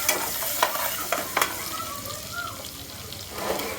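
Garlic sautéing in butter in a pan for Filipino chicken macaroni soup, a steady close sizzle with a few sharp clinks of stirring and soft scraping, no voices.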